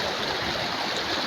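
Steady broadband rush of a rocky river flowing over stones, a continuous close wash of water with no pauses and no voices.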